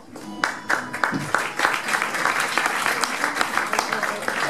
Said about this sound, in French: Applaudissez pas trop